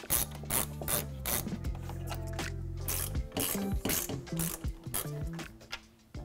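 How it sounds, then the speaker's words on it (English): A small ratchet with an 8 mm socket backs out a headlight screw on a 2021 Ford Bronco, giving close, quiet bursts of rapid clicking in short strokes with brief pauses. "Grab a small ratchet and an 8 millimeter socket to back this screw out."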